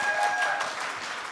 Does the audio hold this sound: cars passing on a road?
no